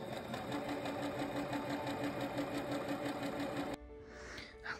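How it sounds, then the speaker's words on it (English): A sewing machine stitches layers of tulle together for a homemade wedding dress, running in a steady, fast, continuous whir close by for nearly four seconds before stopping abruptly, followed by a brief quiet handling rustle. "let's take these two top pieces and sew them."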